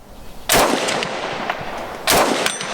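A Norinco Type 97 rifle fires two loud, sharp shots about a second and a half apart, each leaving a long ringing echo.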